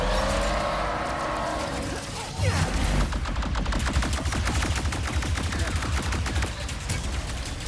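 Rapid gunfire in Ratchet and Clank Rift Apart, a fast stream of repeated shots that grows denser after a pause, over game sound effects, with someone talking at times.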